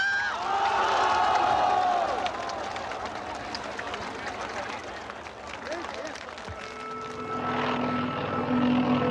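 Military helicopters circling over Tiananmen Square during martial law, a steady rotor drone that swells and fades amid crowd noise, with voices talking throughout.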